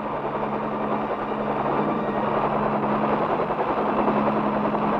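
Military attack helicopters from a 1965 film fly with a steady, heavy rotor drone and low engine rumble that holds constant, fairly loud and continuous throughout, with no speech.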